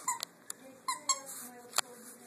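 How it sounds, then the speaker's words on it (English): A raccoon squeaky toy squeaks in short, sharp bursts as a dog chews it nearby. About six quick squeaks come at irregular intervals against a quiet room. "Good boy, give it a squeak."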